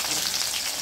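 Black cumin seeds and chillies hit hot oil for a mustard pabda fish curry, producing a brief, loud, dense sizzling hiss with no break.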